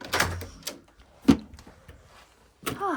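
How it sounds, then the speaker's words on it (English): The back door of a home kitchen opens in a few separate bumps and clunks with quiet rustling between them, fairly close by and with no one talking. "let's put this out the back door"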